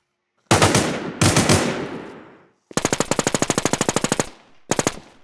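Automatic weapon bursts in the survival shooter Infestation The NewZ: two sharp, close single heavy shots, then a long rapid-fire burst of about twenty rounds and a short final burst, with silence between.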